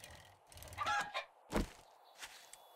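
A chicken in the survival game 7 Days to Die makes a few short clucking bursts, close and fairly loud, with brief gaps between them and nothing else around.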